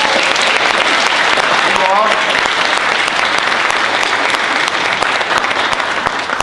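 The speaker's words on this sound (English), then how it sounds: "Marines a round of applause." A crowd at a veterans appreciation event applauds the U.S. Marines, loud sustained clapping filling the whole stretch, with faint cheering mixed in.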